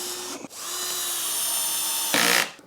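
A power drill drives screws into wood while building a tray, a close, loud, steady whine running for about two seconds after a brief start, ending in a harsher burst as the screw seats.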